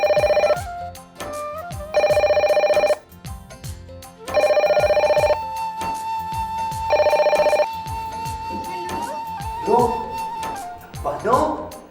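A telephone rings in repeated loud bursts with short gaps between, while voices talk and music plays in a household drama scene.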